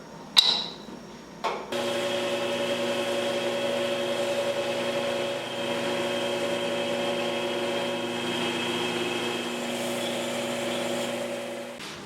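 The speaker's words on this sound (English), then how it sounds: "I'm going to go ahead and go the coward's route and get out my belt sander." A belt sander working acrylic on a money clip project: a couple of clicks, then the motor spins up to a steady, loud, tonal whine with a whirring sanding hiss that runs unchanged to the end.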